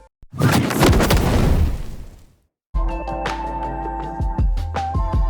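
A roaring fiery whoosh swells and fades, then after a brief gap a crackling tail of firecracker-like pops and tonal sparkles follows, loud and up close.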